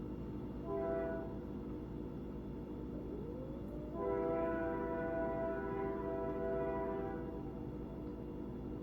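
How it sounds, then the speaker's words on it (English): A train passes outside, heard faintly indoors as a distant low rumble with two long horn blasts, the second longer and fuller. "Mind the train."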